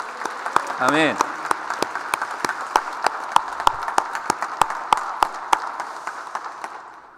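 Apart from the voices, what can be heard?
congregation applause in church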